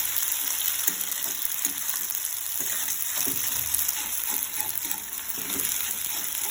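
Egg pasta cooks in hot oil in a pan while an egg is stirred in, giving a steady close sizzle with soft scraping stir strokes throughout and no talking.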